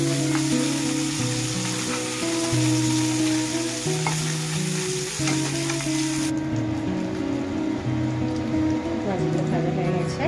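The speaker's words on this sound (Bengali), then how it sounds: "লাল লাল করে ভালো করে মাছগুলো ভেজে নেব।" Parshe fish frying in hot oil, pieces turned until red-brown: a loud, continuous crackling sizzle that fills the whole stretch, with steady background music underneath.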